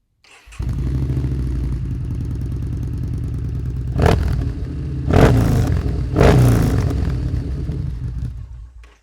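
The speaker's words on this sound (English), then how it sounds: "that Cobra exhaust sounds so amazing" A Yamaha Bolt motorcycle fitted with a Cobra exhaust idles with a deep, steady burble, then is revved hard three times in quick succession, each blip a loud throaty roar before it settles back to idle.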